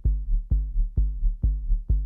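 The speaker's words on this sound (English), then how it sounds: "It's called Soft Deep Kick." Soft Deep Kick drum patch played on a Korg Volca Drum, five deep, booming kicks at a steady rhythm of about two per second, each a loud low thump with a rounded decay, heard alone.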